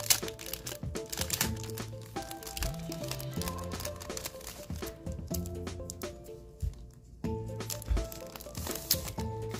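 Package of planner stickers being opened by hand, close crinkling and crackling of plastic and paper with small tearing and rustling bursts throughout, a busy, continuous handling texture.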